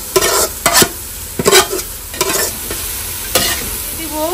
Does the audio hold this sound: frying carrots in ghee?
yes